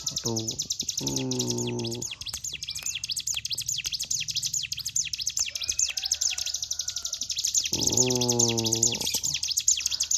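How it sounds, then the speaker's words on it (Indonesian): Small birds chirp and trill rapidly and continuously, with repeated louder song bursts from a nearby mountain prinia. "digoda seperti ini supaya burung Cigunnya nyaut"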